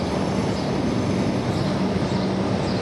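A Lilydale-bound suburban train pulls out of Southern Cross Station, giving a steady, loud rumble of rolling rail wagons with a faint sustained tone and no voices.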